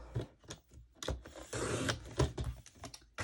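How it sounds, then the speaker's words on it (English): Paper is cut to trim about half an inch off a page for a 6x6 mini album, making a series of close, dry scraping and slicing strokes with brief pauses between them. "I need to cut about 1/2 inch, if you see there, off."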